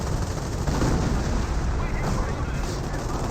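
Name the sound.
command tank machine gun firing in Company of Heroes video game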